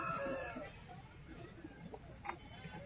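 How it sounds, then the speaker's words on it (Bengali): Chickens at an outdoor poultry market, clucking in a few brief, soft calls amid a busy background murmur. "ভালো কোয়ালিটির মুরগি আছে এখানে"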